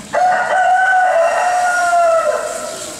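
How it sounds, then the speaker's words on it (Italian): A rooster crows once in a loud, close, drawn-out cock-a-doodle-doo lasting nearly three seconds, heard alone during a Holy Cross Passion performance in Macerata. "il gallo cantò."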